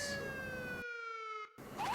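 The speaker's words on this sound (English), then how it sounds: "Siren is to be used for emergencies and necessities, and for clearing road for VIPs" A loud, steady electronic siren wails close by with a high, sustained tone. It cuts out abruptly partway through and then returns.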